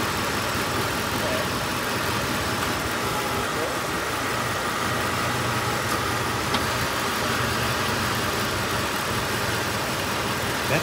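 A 1993 Cadillac Coupe DeVille with 67,000 miles idles steadily, its engine hum carrying a faint whine from a failing transmission pump, a continuous even drone throughout with soft background noise.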